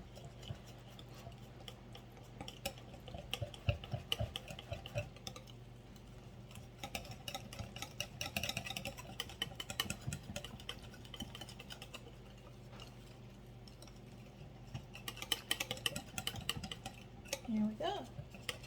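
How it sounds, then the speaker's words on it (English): A whisk clinks and scrapes steadily against a bowl while mixing pumpkin pie filling, a quiet rapid ticking with occasional louder knocks, close and soft throughout. "then we're going to just use the whisk to try to get this"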